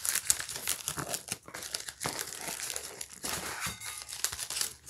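Paper packaging of a mystery box crinkles and tears continuously at close range, with rustling bursts and brief pauses.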